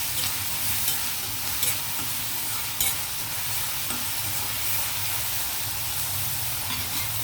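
Onions frying in oil as the base for mutton keema, a dense continuous sizzle with a few light stirring clicks.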